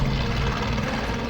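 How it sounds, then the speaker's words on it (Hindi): A helicopter thuds close by with steady, loud rotor chop and engine rumble throughout the brief moment. "हेलीकॉप्टर"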